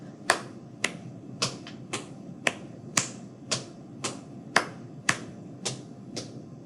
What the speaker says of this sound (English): this one is clap, clap, stomp, stomp